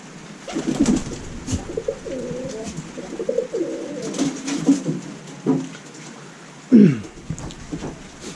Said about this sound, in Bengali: কবুতর এই যে উপরে আছে আর কি।